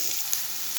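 Kuruma ingredients sautéing in a hot pan until golden, giving a steady, close sizzle and crackle with no talking.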